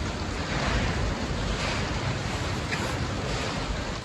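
Rain falling steadily outside a barn on a Friday evening, a continuous broadband wash of water with puddles forming, heard alone without voices at an even, moderately loud level.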